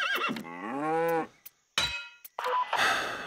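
A cartoonish cow moo in the rhythm game Headbangers Rhythm Royale, a long drawn-out lowing note that bends up and down, followed by short percussive clicks and a harsher noisy burst.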